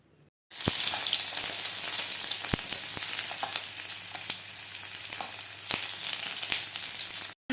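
Greens (behar and radish shak) frying with potatoes in a pan, a loud, steady sizzle that starts abruptly after a quiet moment, punctuated by a few sharp clicks and scrapes of stirring.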